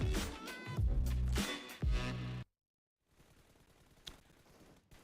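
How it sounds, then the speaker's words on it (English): Heavy automatic gunfire in the mobile battle royale game BGMI, played at a LAN esports event, blasts in loud rapid bursts, cuts to silence, then a single faint shot follows. "just firing a lot of shots in the front"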